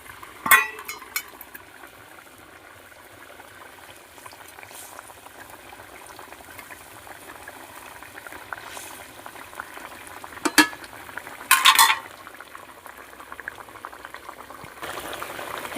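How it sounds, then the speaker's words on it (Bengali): A fish curry simmers at a low boil in a pan, a faint steady bubbling with a few sharper clinks and scrapes from the pan around the middle and later. "একখানা এখানে ফুটছে। এখন ফুটে এসছে, 5 মিনিট হয়ে গেছে।"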